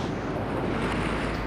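Big, consistent ocean waves breaking at a surf beach, a loud continuous roar and wash of surf with wind noise, no voices.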